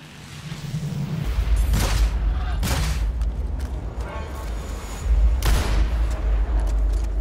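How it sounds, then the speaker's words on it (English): A tranquilizer gun fires in the shooter Evolve amid battle, with loud repeated bursts and booms over rumbling background noise, and a voice talking through the action. "I'm on the trank gun"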